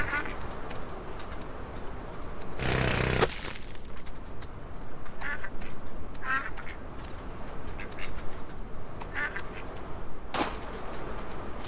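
Aylesbury ducks on a farm in the Farm Together video game, with scattered quacks over a steady ambient background, while a voice talks faintly.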